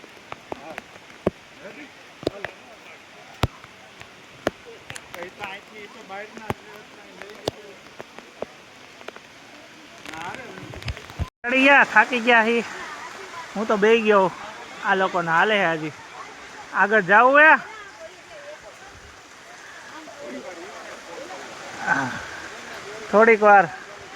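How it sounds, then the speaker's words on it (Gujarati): Steady noise of heavy rain and a waterfall at Jatashankar runs throughout, with several bursts of people talking over it in the second half. "ધોધ બહુ સારો પડે ફૂલ વરસાદે"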